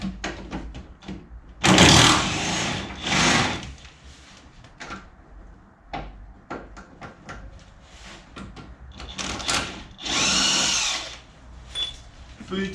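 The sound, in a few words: impact wrench loosening bolts on BMW 750 IL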